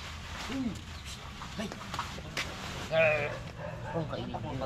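A dog gives a few faint, short barks and yips outdoors, partly buried under steady background noise and voices.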